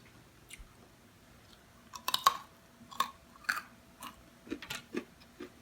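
Jaggery peanut brittle being bitten and chewed close up, a series of sharp, crisp crunches spaced irregularly over a few seconds, loud against near silence.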